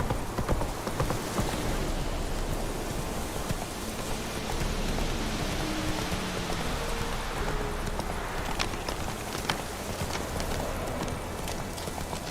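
Roach, the horse in The Witcher 3, galloping with a rapid continuous drumming of hooves over a dense noisy bed that suggests rain, steady and fairly loud throughout, with no voices over it.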